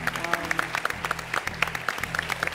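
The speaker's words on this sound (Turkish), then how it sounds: "büyük bir büyük alkışta Hülya Koçyiğit'e alalım" A television studio audience applauds a guest, Hülya Koçyiğit, with sharp, rhythmic clapping close by, while voices talk over it.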